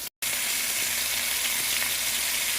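Beef pieces browning in a pan for stew give a loud, steady, close sizzle that fills the whole stretch after a brief gap at the start, with no talk.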